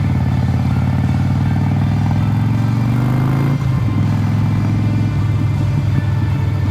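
A Harley-Davidson Iron 1200 Sportster cruiser engine rumbles steadily and loudly up close, its deep pulsing idle shifting slightly partway through without any pause.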